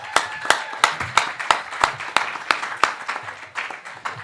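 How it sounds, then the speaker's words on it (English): Audience at a Purim celebration claps in unison, a steady rhythmic beat of about three claps per second over a crowd's background murmur. "Y'all clap it up, y'all clap it up."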